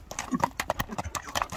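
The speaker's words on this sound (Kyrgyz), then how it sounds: "Кара ат келди ат, кара ат." Hooves of a big black horse clip-clop close by in a quick, steady, uneven rhythm, with a voice faintly present alongside.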